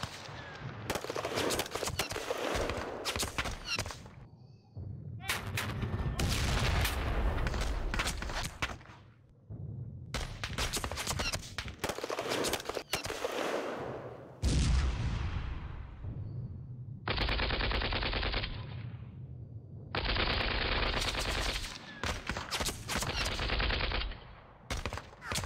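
Troops firing in Panzer Battles North Africa 1941, bursts of machine-gun and rifle fire in repeated volleys separated by short gaps, with sustained rapid rattling stretches later.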